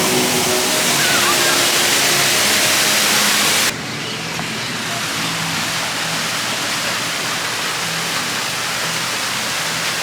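Water rushes steadily down a theme park ride river, a loud continuous broadband roar that drops slightly in level partway through but keeps flowing without a break.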